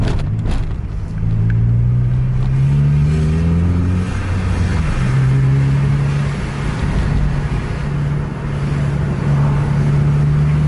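Several buses race out of a crowded terminal, engines revving hard at full throttle with deep rising and falling drones that overlap and swell loudly throughout.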